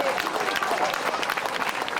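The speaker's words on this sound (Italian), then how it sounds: "Dateglielo a Gabriele un applauso." An audience at a live comedy show breaks into dense, even applause, a continuous wash of many hands clapping at once that stays loud throughout the short burst.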